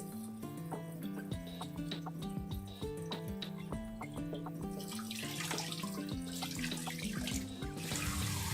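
Water from a tap running while mackerel is rinsed and strained in a sink, a quiet steady splashing stream with faint clinks, heard alone.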